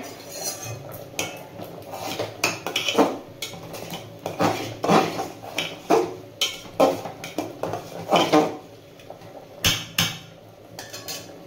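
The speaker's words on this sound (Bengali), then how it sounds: "এর মধ্যে দিয়ে মিশিয়ে নেব ভালো করে" A spoon scrapes and clinks against a pot as spices are stirred into vegetable khichdi, a steady run of close metallic knocks and scrapes with no talking.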